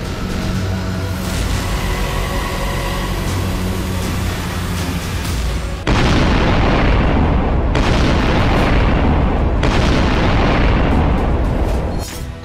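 Israeli missile bombardment of Gaza: a loud, dense roar of blasts and rumbling booms that swells suddenly partway through and stays heavy, with no speech.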